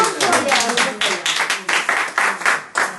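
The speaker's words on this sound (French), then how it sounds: "On l'applaudit très fort." Audience at a French religious gathering clapping loudly for a departing sister, a dense run of hand claps in uneven bursts with voices murmuring underneath.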